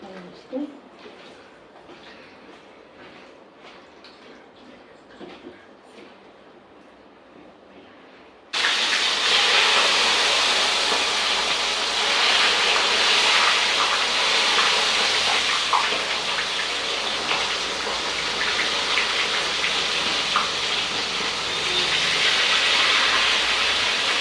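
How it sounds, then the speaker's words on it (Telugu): Fish pieces drop into hot oil for a fish curry. After a quiet stretch with voices, a loud, continuous sizzling hiss bursts in and holds steady to the end. "కొంచెం కొంచెం అలా ఆయిల్లో ఫ్రై చేసుకోవాలా"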